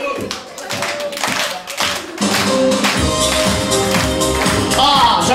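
At a live music show, the crowd claps along in a steady rhythmic beat. Music and a shouting voice come in partway through and join the clapping.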